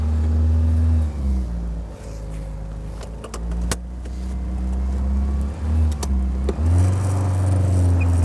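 A 1972 Triumph Spitfire MkIV 1300 engine idles on a cold day, a close, steady low rumble with slight shifts in pitch and a few small clicks, no one talking.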